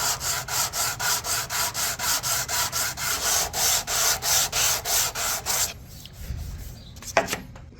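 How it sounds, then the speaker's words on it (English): Sanding of cured epoxy on a walnut table, a loud rhythmic scrubbing of about sixteen even back-and-forth strokes that stops near the end, leaving faint handling noises. "And we'll sand this down."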